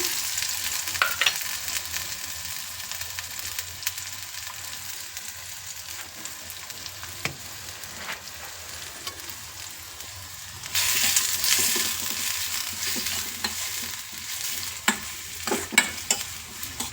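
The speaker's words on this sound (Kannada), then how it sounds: "ಈಗ ಎಣ್ಣೆ ಕಾದಿದೆ ಇದಕ್ಕೆ ಫಸ್ಟ್ಗೆ ನಾವು ಈರುಳ್ಳಿ ಮತ್ತು ಹಸಿಮೆಣಸಿನ್ಕಾಯಿ ಎರಡೂ ಹಾಕ್ಕೊಂಡು ಸ್ವಲ್ಪ ಫ್ರೈ ಮಾಡ್ಕೊಳ್ಳೋಣ" Onions and green chillies sizzle steadily in hot oil, with stirring scrapes and a louder burst of frying partway through; no talking.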